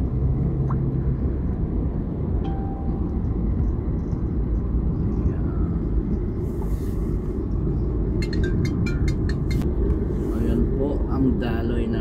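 Road traffic in Dubai near the Burj Khalifa, heard as a constant loud rumble of engines and tyres from inside or beside a moving vehicle, with a few faint clicks over it.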